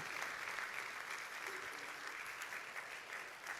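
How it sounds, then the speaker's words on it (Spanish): A church congregation breaks into sustained applause, a dense, even patter of many hands clapping throughout, heard somewhat distant and soft. "Eso merece un fuerte aplauso para el Señor."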